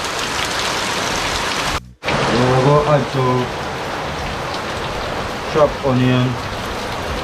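Heavy rain falls steadily outside an open door, a constant broadband hiss behind outdoor cooking of BBQ pork, while a person talks over it in two short stretches.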